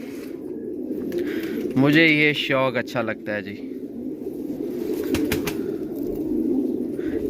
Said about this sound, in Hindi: कबूतर बस ऐसे ठप ठप करते रहें और मस्ती करते रहें, गुटकते रहें